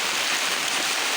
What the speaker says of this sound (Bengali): দেখুন আমাদের এখানে অনেক বৃষ্টি হচ্ছে।